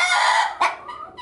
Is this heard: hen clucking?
yes